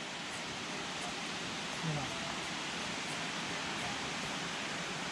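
A waterfall gives off a faint, steady, distant hiss of falling water that holds unchanged throughout, with no clear voices.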